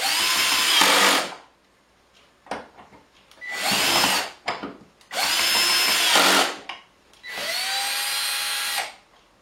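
A power drill runs in four long bursts, each about a second or two, backing screws out of a wooden kitchen table, with short pauses and small handling knocks between the runs.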